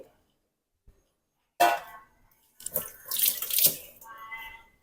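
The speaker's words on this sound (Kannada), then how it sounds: "ಸ್ವಲ್ಪ ನೀರು ಹಾಕೊಳ್ತಾ ಇದ್ದೀನಿ." Water runs from a tap in two bursts, a short gush and then a longer steady stream, close by with no talking.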